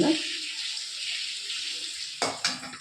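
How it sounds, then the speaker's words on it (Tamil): Ground paste goes into an oily eggplant kulambu (ennai kathrikai kulambu) in a pan. A steady, close sizzle hisses throughout, then a sharp wet splash and a second burst of sizzling come near the end. "அந்த பேஸ்ட்டு வச்சுருக்கேன் ரெடியாக நான் இதை ஊற்றுறதுக்கு"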